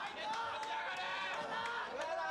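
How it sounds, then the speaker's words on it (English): Wrestling fans at an FMW event cheer for Kuroda, a loud crowd roar of chanting and shouting that holds steady throughout. "Fans are cheering on Kuroda."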